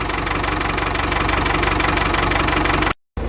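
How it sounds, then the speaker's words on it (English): A Ford 6610 tractor diesel engine idles with a steady, knocking low rumble, close and continuous, then cuts out briefly at the end. "Now it's idling so much better."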